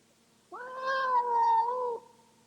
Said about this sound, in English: the cat cried